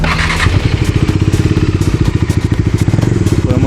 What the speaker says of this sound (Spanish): Y así suena esta moto.